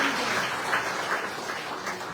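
An audience at a concert gives a steady round of applause for volunteer ushers, dense and even, filling the whole stretch without pause.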